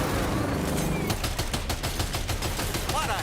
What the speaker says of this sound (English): Equipping a machine gun.